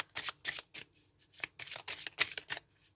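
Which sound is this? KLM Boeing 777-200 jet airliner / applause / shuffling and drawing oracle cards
shuffling and drawing oracle cards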